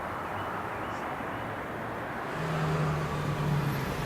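Road traffic on the 250 Bypass at rush hour, a steady moderate wash of passing cars with a low engine hum swelling louder in the second half as vehicles draw nearer.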